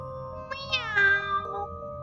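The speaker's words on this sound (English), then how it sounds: "It's only a cat." A cat meows a few times in quick succession, clear and close, with rising and falling drawn-out cries and no other sounds around it.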